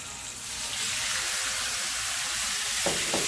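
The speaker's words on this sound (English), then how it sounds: "we have our hot wok here, and I'm just gonna go in with this meat" Beef hits a hot wok for a beef and broccoli stir-fry, a loud dense sizzle that swells and holds steady, with a brief clatter of stirring toward the end and no voices.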